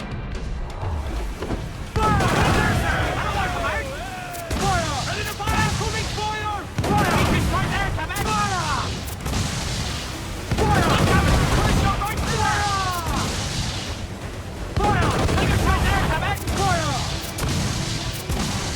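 Ship cannons boom in repeated volleys during a naval battle in Assassin's Creed 4: Black Flag, loud crashes and blasts layered under shouting crew voices and music, continuous and close throughout.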